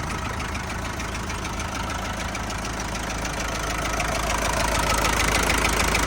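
Foton Lovol TB-454 Plus tractor diesel engine idling: a steady, even close rumble with a rapid rhythmic knock, continuous throughout and growing slightly louder toward the end, no talking.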